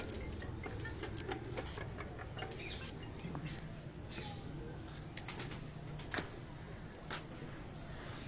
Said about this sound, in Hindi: ये जी आपको शौक करवाने के लिए जा रहे हैं उस्ताद जी के परवाजी कबूतरों का